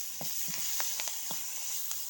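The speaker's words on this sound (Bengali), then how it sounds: "মরিচগুলো আমি তেলে ভেজে নিচ্ছি" Chillies frying in hot oil, cooked for a Bengali lentil dish. A steady close hiss of sizzling with scattered small pops and crackles runs throughout, without talk.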